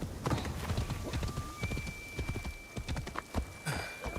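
A horse in Assassin's Creed Shadows trots with steady, close clip-clop hoofbeats throughout, joined by a whinny, while a thin steady tone hums in the background.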